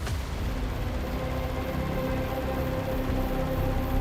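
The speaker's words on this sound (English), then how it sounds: "Gunshot." Gunfire in GTA V on a FiveM multiplayer server, a dense, rumbling burst of shots carried over a steady background roar at moderate loudness, with no talking.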